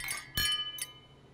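Glasses clink in a toast, several bright ringing chinks close by, the middle one loudest, a lighter tap following, with no talking.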